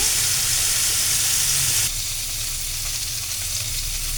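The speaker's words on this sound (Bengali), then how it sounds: "আমি এখন তেলে একটু পেঁয়াজ দিয়ে দিয়েছি। পেঁয়াজ ভাজা হয়ে গেছে" Onion fries in hot oil for a Bengali home-cooked dish, giving a loud, steady close-up sizzle that drops to a softer, continuous crackle partway through, with no talk.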